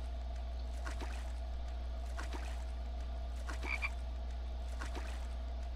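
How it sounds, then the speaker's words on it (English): Frogs croak underwater in a video game set at an infected lake, with repeated faint croaks about once a second over a steady low hum and light water trickling. "Frogs underwater."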